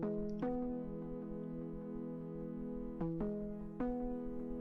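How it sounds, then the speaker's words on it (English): A Serum synth chord patch treated with EQ, a phaser and lo-fi effects plays sustained, harmonically rich chords, restruck three times with soft attacks, alone and at a modest level. "It's just a serum patch, and I ran it through some EQ, some phase mistress, some lo-fi audio"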